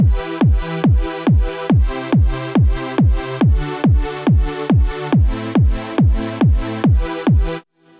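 Electronic music pumping under an offbeat-focused sidechain preset from the SideKick2 plugin, sixteen evenly spaced pulses where each bass hit ducks sharply and swells back on the offbeat, loud and steady before stopping abruptly.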